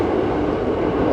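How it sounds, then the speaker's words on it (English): Train passing close by, a loud continuous low rumble and roar of rolling wagons, heard alone for about a second. "while this train's passing by"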